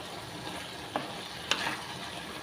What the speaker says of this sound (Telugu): మంచిగా కలిసేలా కలుపుకోవాలండి అంతా.